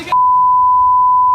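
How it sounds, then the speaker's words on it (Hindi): A censor beep covering obscene speech in news footage of a student protest: one loud, steady electronic tone that starts abruptly after a brief burst of noise and holds unchanged to the end. "जहां जहां आपको ये बीप की आवाज सुनाई दे रही है"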